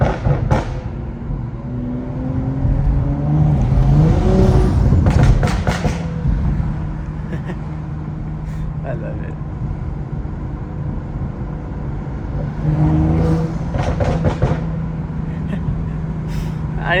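A Stage 2 tuned BMW 435i drives through a Long Island port, its engine droning steadily with gear-change surges and revving swells, heard from inside the cabin under occasional talk.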